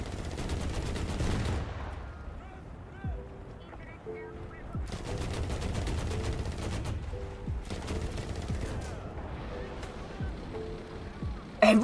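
Repeated bursts of automatic cannon and machine-gun fire in War Thunder striking a tank's ammunition store, sharp rattling volleys separated by short pauses, with someone talking over the shooting.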